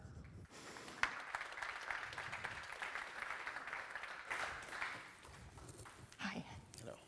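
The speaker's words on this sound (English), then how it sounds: "Give a round of applause to CEO of Lava Network, Yair Klepper." Audience clapping fills a conference hall as a speaker, the CEO of Lava Network, is welcomed to the stage at the Gateway to Cosmos 2023 blockchain event; the steady applause lasts several seconds and tapers off toward the end.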